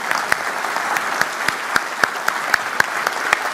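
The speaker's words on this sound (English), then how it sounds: "the clap is for you guys" An audience at a gaming expo presentation applauds in a steady wash of clapping, with a few sharper individual claps standing out at regular intervals, no talking over it.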